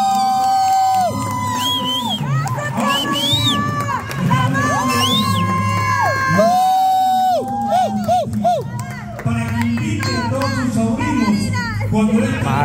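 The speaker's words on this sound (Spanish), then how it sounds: "quiero un fuerte aplauso para la tía María." A lively crowd, many of them children, cheers and shouts for tía María, with excited overlapping voices, whoops and squeals close by throughout, and clapping mixed into the noise.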